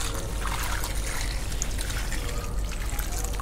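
Water poured steadily onto a heap of cow dung compost, a continuous trickling and splashing stream close by with no talk.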